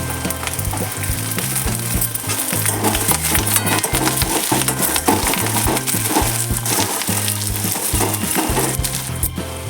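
Onions and green chillies frying in a pan for a Telugu aloo kurma, a loud, steady sizzle with frequent scraping and stirring knocks throughout, with rhythmic music playing beneath.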